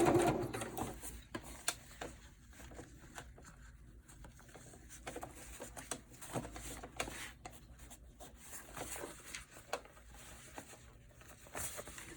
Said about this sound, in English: You just want to make sure that you are top stitching on top of that piece of seam that you made.